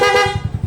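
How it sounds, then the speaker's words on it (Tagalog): A loud aftermarket horn on a Yamaha Fazzio scooter gives a short, close, bright toot, followed by a quick series of low rhythmic pulses as it fades. "Tapos busina niya ito. Stock tsaka loud."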